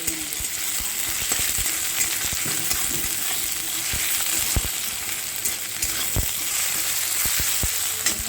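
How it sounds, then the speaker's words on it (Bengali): Ginger, garlic and onion sizzling and frying in a pan, stirred throughout, with a continuous bright crackle and frequent sharp scrapes and taps of the spoon, close and steady with no voices. "তো চলো আদা রসুন পেঁয়াজ খুব ভালো করে একটুখানি নাড়িয়ে ছাড়িয়ে নিই।"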